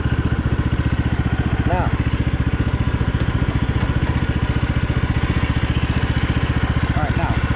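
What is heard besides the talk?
Troy-Bilt Bronco 46 inch lawn tractor engine, driving in reverse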